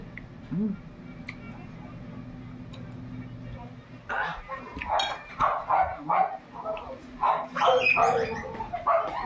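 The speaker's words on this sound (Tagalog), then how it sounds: "Maingay ang mga aso." Dogs bark in a noisy cluster of repeated yelps and barks in the second half, moderately close, over a steady low background hum.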